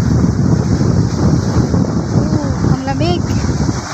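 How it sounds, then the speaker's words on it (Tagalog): Strong wind buffets the microphone at a seaside port with big waves, a constant roaring rush of surf and gusts; a voice briefly rises near the end. "Ang lalaki po ng alon."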